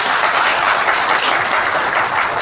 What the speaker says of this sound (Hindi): बहुत बड़ी तालियां उनके लिए बननी चाहिए